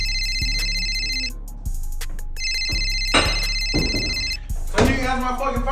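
A phone ringtone plays as a loud, steady electronic ringing pattern that drops out briefly and then starts again. A low steady drone runs under it, and heavy thuds and background commotion come in toward the end.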